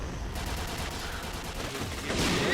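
Sniper gunfire in a PUBG esports match, with a burst of sharp shots crackling densely over a noisy game mix, ending in a louder swell of sound near the close.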